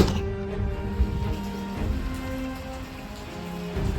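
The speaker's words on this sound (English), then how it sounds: "Just started to pour hard rain." Heavy rain pours hard outside a flooded house, a dense continuous hiss and patter of drops with a few sharper thumps on the surface, loud and steady throughout.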